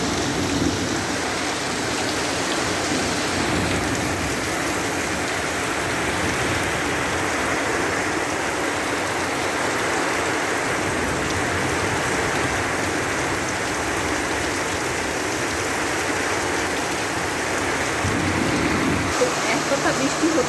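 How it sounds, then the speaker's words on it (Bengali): Heavy monsoon rain pours down steadily for the whole stretch, a dense, loud, unbroken hiss of drops on surfaces, with a person talking softly under the downpour. "বাট দেখো প্রচুর পরিমাণে বৃষ্টি হচ্ছে"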